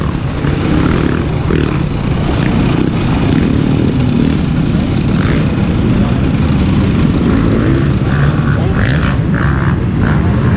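A 2023 KTM 300 XC-W two-stroke off-road motorcycle with transfer port injection runs loud and close on Appalachian single track, its engine droning and revving continuously throughout.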